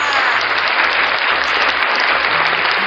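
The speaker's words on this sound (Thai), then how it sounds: "ขอเสียงปรบมือ" An audience at a student singing contest claps steadily to welcome a contestant onto the stage, a loud, continuous wash of hands with low music pulsing underneath.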